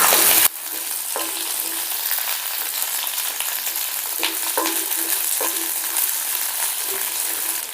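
Onions sautéing in a pan with pepper for chicken kuzhambu, a steady broadband sizzle after a brief louder burst at the start, with occasional soft stirring clicks and scrapes throughout; no one speaks.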